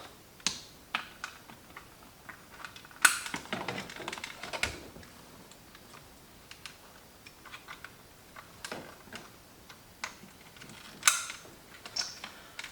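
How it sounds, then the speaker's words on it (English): Plastic wiring harness connectors clicking together inside the center console of a 2013-2018 Lexus IS/RC, heard as scattered close taps and snaps with quiet handling rustle between them. "There are 2 wiring harnesses we removed. We will go ahead and reconnect those."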